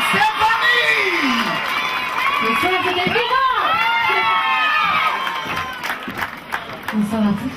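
A television talent show audience on The Voice roars for a singer with loud, sustained cheering, whoops and high shouts, the crowd noise filling the whole stretch with brief dips and swells.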